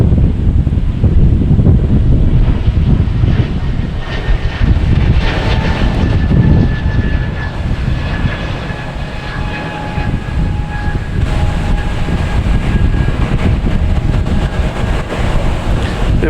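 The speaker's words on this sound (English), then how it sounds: "We have JetBlue coming in from Philadelphia, 2160 and A220." A JetBlue Airbus A220 airliner arriving at Boston Logan Airport, its steady jet engine roar loud and continuous with a faint whine, mixed with wind buffeting the microphone.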